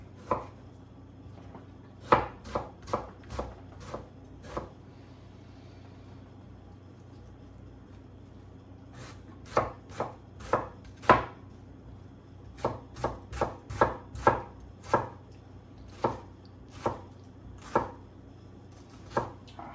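A knife cuts through ingredients for guacamole, tomato among them, on a board: sharp, close chops come singly and in quick clusters, separated by short quiet gaps.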